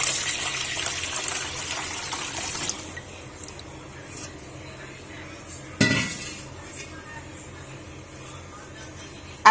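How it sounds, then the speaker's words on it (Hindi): Three cups of milk poured into a pan in a home kitchen, a soft steady pour with light clinks of cookware, a sudden clatter partway through, then quieter pan handling. "अब एक पैन के अंदर हम दूध डालेंगे 3 कप इस तरह से"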